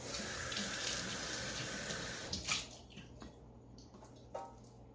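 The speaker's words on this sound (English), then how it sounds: "I'm just going to rinse this off." Tap water runs steadily into a sink as a vegetable is rinsed beneath the stream, fading partway through into a few scattered drips and splashes near the end.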